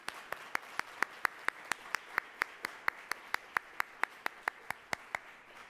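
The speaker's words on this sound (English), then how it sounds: "let's give all of those sponsors and partners an incredible round of applause" A single pair of hands claps in a steady, even rhythm, about four claps a second, crisp and fairly near, at a political forum, with a quiet crowd murmur faint underneath.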